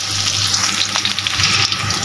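Softened onions and boiled jackfruit seeds fry in a pan, giving a steady, loud, close sizzle throughout with no talking.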